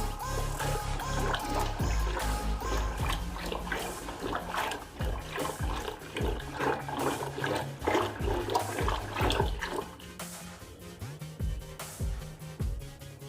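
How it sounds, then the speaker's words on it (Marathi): Cold water from a clay pot poured into churned curd for spiced buttermilk, a close, sustained splashing pour with gurgling bursts that thins to trickles near the end, under light music. "आता यामध्ये आपण माठातलं थंडगार पाणी तीन वाटी घालून घेणार आहोत"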